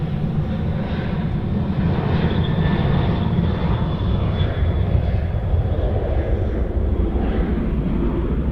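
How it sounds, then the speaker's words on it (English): A Qantas airliner, flight QF 409 bound for Melbourne, takes off at Sydney Airport with a loud, steady engine roar that holds throughout, heard from a distance and alone. "this is going to be QF flight 409 taking off to Matt."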